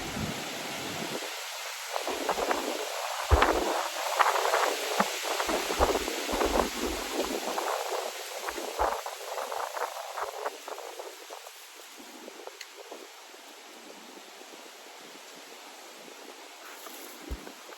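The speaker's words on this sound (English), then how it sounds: "Enjoy your free wind meditation in this video. It was certainly breezy this day." Breezy wind gusting outdoors around a 24-frame Layens beehive during an October honey frame inspection, a steady broadband rush with rustling bursts, stronger in the first half and easing toward the end, with no talking.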